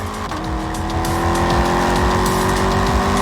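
A Corvette's 409-cubic-inch V8 engine, 535 horsepower, rumbles loudly and steadily, its deep pulsing throb rising slightly in pitch as revs climb, with no voices.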